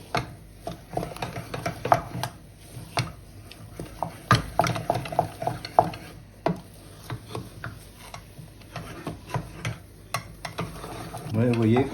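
A spoon scrapes and stirs thick choux pastry dough in a saucepan, with soft irregular scraping strokes and faint sizzling, close and fairly quiet.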